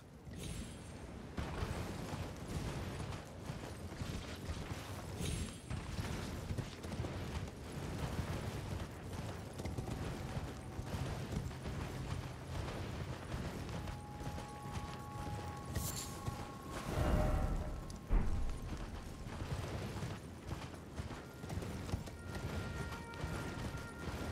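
A horse's hooves clip-clop in the video game Elden Ring as a steady rhythmic plodding of hoofbeats, joined by creaks, mechanical noises and a brief rumbling burst partway through.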